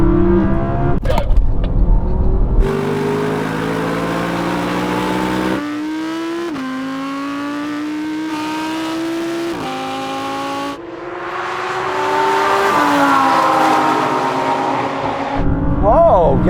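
Audi R8 sports cars launch in a drag race, engines roaring hard through rising revs with distinct gear-change breaks, loud and sustained, ending in a high-pitched squeal as the run finishes.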